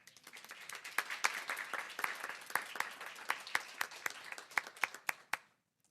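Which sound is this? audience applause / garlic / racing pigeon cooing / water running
audience applause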